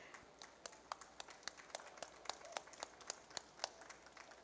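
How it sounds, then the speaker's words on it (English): Scattered audience applause at a climate justice event panel, a small crowd's individual claps sounding sparse and distinct, fairly quiet and slightly distant, continuing evenly for several seconds. "A round of applause for these fabulous women."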